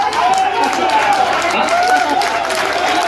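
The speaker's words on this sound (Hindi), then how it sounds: "अभी तालियां कमजोर है" Clapping from a crowd at a Bhojpuri comic poetry gathering for Bihar Diwas in Buxar, a loud, even patter of hands that stays steady across the moment, with a voice carrying over it.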